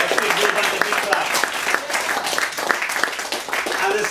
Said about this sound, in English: give them the big clap